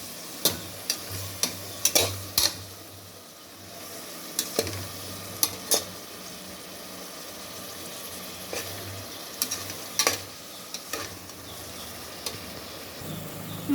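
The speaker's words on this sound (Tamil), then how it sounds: "பச்சை வாசம் போகிற மாதிரி வதக்கலாம்." Ginger garlic paste stir-fried in a pan while cooking a vegetable and mutton curry, with a steady low sizzle and repeated sharp scraping clicks of a spoon against the pan, close and fairly quiet throughout.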